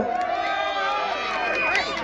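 Spectators at a Thai boxing match, round four of a grudge bout with betting, cheer in a steady, dense crowd roar with shouts rising and falling, while an announcer's voice runs over it.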